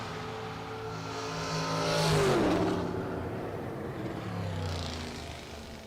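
A modified convertible 1969 Camaro drag racing car at the SFG FuelTech season opener, its engine note rising and sweeping past with a Doppler-like pitch fall, loudest near the middle and fading after, heard alone without voices.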